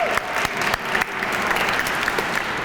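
Audience applause for Cleveland Metropolitan School District students at a school performance of The Wiz, dense sustained clapping with a few sharp louder claps standing out, filling the room.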